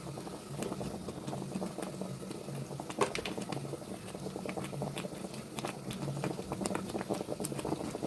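Chicken curry bubbles in a pot on the stove, a faint, steady patter of simmering bubbles with small pops, quiet and close, with no talking.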